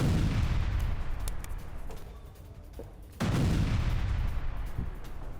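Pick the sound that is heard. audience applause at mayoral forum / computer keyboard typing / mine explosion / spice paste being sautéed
mine explosion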